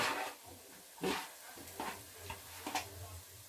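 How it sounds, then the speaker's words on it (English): Garlic drops into a pan of frying onions, sizzling softly with a few sharp stirring scrapes and clatters of a utensil against the pan at irregular intervals. "It's now time to add the garlic."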